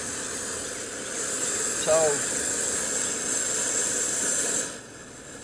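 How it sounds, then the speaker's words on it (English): Water at a rolling boil for coffee gives a steady hissing, bubbling rush that holds evenly, then drops off sharply near the end as the heat is cut, with a brief spoken word over it. "I got a good roll and boil going here."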